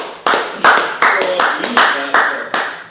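Staff at a workplace recognition event clap in a series of about seven loud, evenly spaced bursts close by, each one decaying quickly.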